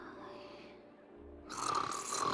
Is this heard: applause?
no